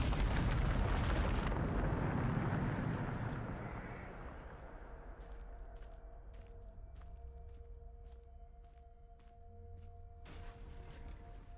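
Casting Bombarda in Hogwarts Legacy sets off a heavy, rumbling explosion that fades over several seconds into softer crackling game sounds and faint ticks.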